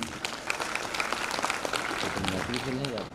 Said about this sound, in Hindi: चलिए अपने लिए जोरदार ताली बजा दीजिए